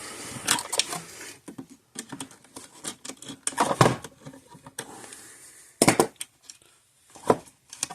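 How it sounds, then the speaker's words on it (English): Nuts being loosened on an old Speedrite 980 electric fence charger, with irregular bursts of metallic clicking, scraping and tool rattling close by, separated by short quiet gaps. "I got these 2 nuts here we gotta loosen up"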